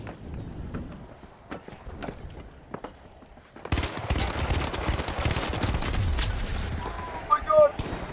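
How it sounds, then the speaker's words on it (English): Rapid automatic gunfire bursts out suddenly and keeps up in a dense, loud stream during a match of the video game The Finals, following a quieter stretch of scattered shots, with a player talking over it. "Everywhere I go, there's another shot coming in."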